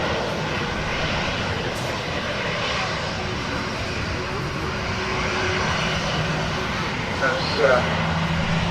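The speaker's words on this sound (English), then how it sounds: "That particular Ryanair taxis in" A Ryanair Boeing 737-800 taxiing at Manchester Airport gives a steady, continuous engine roar that holds even and moderately loud throughout, with a slight swell near the end.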